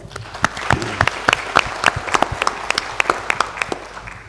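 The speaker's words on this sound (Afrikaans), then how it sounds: "kom ons gee vir hulle 'n lekker hande klap" A church congregation at a Pentecost service claps together in a warm, steady round of applause, individual claps distinct and fairly close, continuing evenly without speech.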